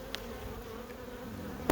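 Honeybees buzz inside an open beehive in late August, a faint steady drone of many insects with a couple of brief clicks, no voices.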